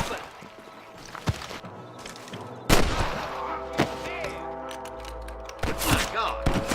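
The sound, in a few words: gunfire in the video game Red Dead Redemption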